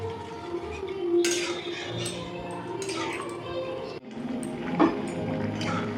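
Metal spoon stirring vegetable dalia with water in a cooking pot, with repeated clinks and scraping against the pot, close and fairly loud, over a steady kitchen background.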